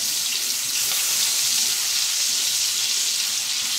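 Garlic frying in oil until golden brown gives a loud, dense and steady sizzle close by, a continuous bright hiss with no pauses or voices.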